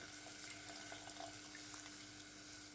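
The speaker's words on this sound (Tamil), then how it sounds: "புளித்தண்ணி வந்து சேர்த்துக்கலாம்" Tamarind water pours steadily into a pot of Chettinadu urundai kulambu, a lentil-ball curry, making a continuous soft splashing trickle, faint and unbroken throughout.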